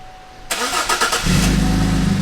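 A car fitted with an exhaust mod cranks with a few quick turns, then catches and settles into a loud, steady low idle close by.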